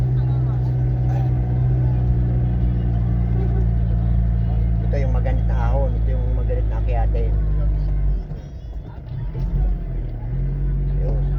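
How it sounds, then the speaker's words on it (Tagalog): A Toyota Revo Tamaraw with a 2L diesel engine drones steadily with a low rumble while driving across a bridge. Someone talks over the engine noise, and the drone dips briefly near the end. "Toyota 2L diesel engine"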